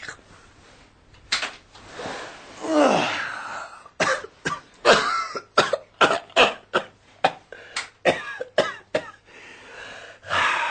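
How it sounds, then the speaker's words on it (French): A smoker's fast run of harsh, rough coughs comes in short bursts, close and loud, after a stretch of heavy, raspy throat sounds. "les fumeurs toussent un peu le soir aussi"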